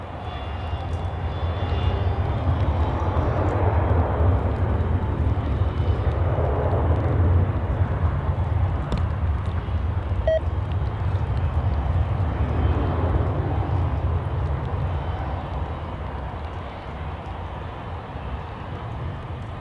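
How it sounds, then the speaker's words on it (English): An Edelweiss airliner on its takeoff run at Zurich Airport, a steady, loud jet engine roar holding throughout and easing slightly toward the end, with no talk over it. "And off we go, takeoff for Edelweiss Flight 2 to Las Vegas."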